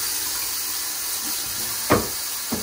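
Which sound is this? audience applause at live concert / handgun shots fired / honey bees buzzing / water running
water running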